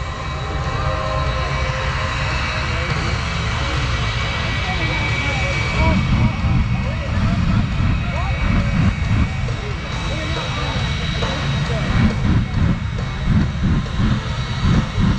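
The Afterburner jet truck's engine roars continuously at night at the Stuart, Florida air show, building in intensity with rumbling bursts, heard outdoors from a moderate distance.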